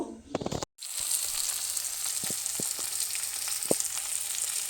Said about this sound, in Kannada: ಕುದೀತಾ ಇದೆ ನೋಡಿ ಇಷ್ಟು ಕುದ್ರೆ ಸಾಕು